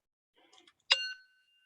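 A mindfulness bell is struck once at a school breathing session, ringing out clear and bright after faint murmuring, then its tone sustains and slowly fades into silence.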